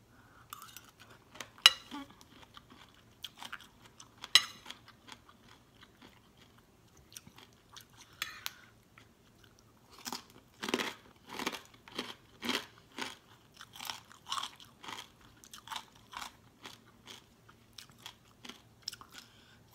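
Crunchy chewing of Thai larb and papaya salad, close to the mic, in scattered bites at first, then a steady run of loud rhythmic crunches through the second half, with no talk.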